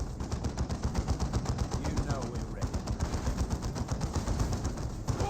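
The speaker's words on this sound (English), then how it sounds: "Imperial Guardsmen receiving suppressive fire from the big shooters." Rapid machine-gun fire from a Dawn of War 2 battle, with Ork big shooters laying suppressive fire on Imperial Guardsmen, a dense continuous rattle of shots running throughout under a voice talking.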